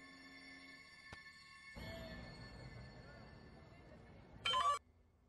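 A telephone rings on an incoming call in a Marathi thriller film scene, one short, bright electronic ring burst near the end after quiet, low room ambience.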